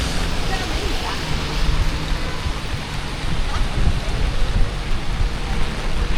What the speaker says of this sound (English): Super heavy rain, my friend.